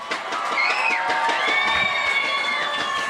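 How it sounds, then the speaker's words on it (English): Crowd in the stands at a Lincoln versus Farmington football game cheering for the cheerleaders: a broad, steady roar of many voices with rising shouts and whistles, continuous throughout. "Let's give a cheer for our great cheerleaders."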